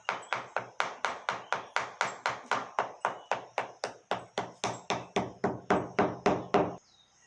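A spatula knocks again and again against a casting mould to work it loose: about twenty sharp, close taps in a quick, even rhythm, each ringing briefly, before stopping abruptly.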